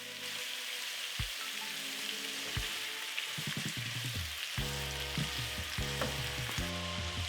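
Potatoes and whole cherry tomatoes sizzle in a roasting pan with carrots, a steady close hiss broken by irregular knocks and scraping clatter as the vegetables are stirred and moved.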